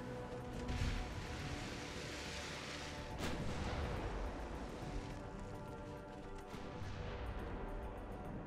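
Enemy battleship shells thunder in a naval combat game, a faint, steady rumble of fire with a few heavier booms and crashes spread through it.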